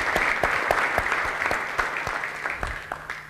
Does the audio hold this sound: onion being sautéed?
no